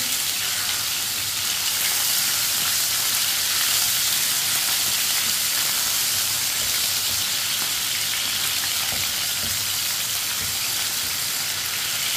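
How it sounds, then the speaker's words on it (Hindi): Small chicken pieces fry in a pan on lowered heat with a continuous, loud, hissing sizzle that stays even throughout, close to the pan with no talk. "चिकन को भी 2-3 मिनट के लिए फ्राई कर लेंगे।"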